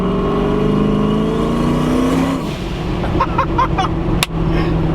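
A Ford Mustang engine revs hard, loud and close, its tone climbing steadily before dropping off, then a few sharp blips and a loud pop as the revs settle back to a rumbling idle.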